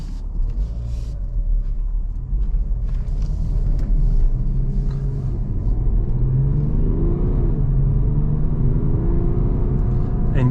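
A BMW G31 530xd with a straight-six diesel engine accelerates in sport mode, a loud, deep, steady rumble building in pitch as heard from inside the car, with no talking.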